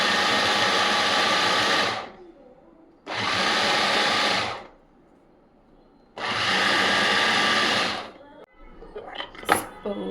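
An electric blender whirs loudly in three steady bursts of about two seconds each while churning cream into butter, with brief pauses between runs and some clattering afterward.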